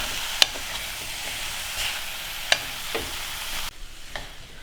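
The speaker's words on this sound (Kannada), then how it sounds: "ಇದೆಲ್ಲದನ್ನು ಈ ಥರ ನಿಧಾನಕ್ಕೆ ಮಿಕ್ಸ್ ಮಾಡ್ಕೊಳ್ಳೋಣ" Salad ingredients tossed together by hand in a bowl, giving soft rustling and a few sharp clicks against quiet background noise.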